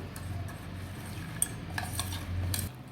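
A spoon scrapes and clinks against a metal pot in short, irregular strokes as a thick raw mango and jaggery pickle mixture is stirred, close by with no talking.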